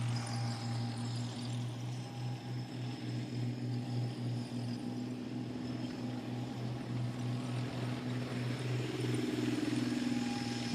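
A Challenger main battle tank's engine of over 1,000 horsepower runs steadily nearby, a deep continuous drone with a pulsing low throb and a faint whine above it, building slightly toward the end.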